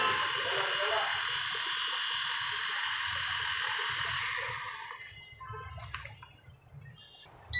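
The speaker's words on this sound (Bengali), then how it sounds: "তো আমাদের আমাদের ড্রোনটি কিন্তু চলা শুরু করে দিয়েছে" A high, buzzing whine of a low-cost camera drone's small electric motors runs steadily, then fades out, leaving quiet background noise with a brief clatter at the end.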